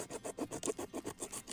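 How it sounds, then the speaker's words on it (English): A Leatherman multitool saw cuts through a deer's rib cage during field dressing, making about nine quick, rhythmic rasping strokes, fairly close and moderately quiet. "Sawing it."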